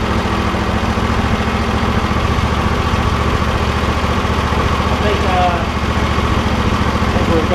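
A John Deere L120 lawn tractor engine at full throttle, droning loudly and steadily up close for the whole stretch.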